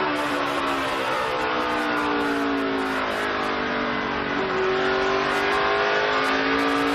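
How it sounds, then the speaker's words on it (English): NASCAR race cars at the 2012 Federated Auto Parts 400 roar through the corners in a loud, continuous engine drone whose pitch dips and rises. No one talks over it. "Clint Boyer, watching him drive in the corners right now"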